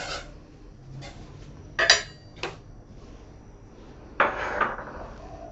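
A utensil stirs yellow curry with spice paste and shrimp paste in a pot, giving a few sharp metallic clinks and scrapes at irregular intervals over a quiet background, with no one talking.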